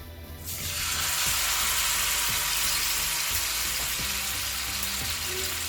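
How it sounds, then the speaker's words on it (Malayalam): Marinated tandoori chicken frying in a pan, a loud steady sizzle that starts abruptly and continues without a break, with occasional faint clinks and scrapes underneath. "ഇതൊരു ചിക്കൻ നമുക്കിനി പാനിലിട്ട് ഫ്രൈ ചെയ്യാം."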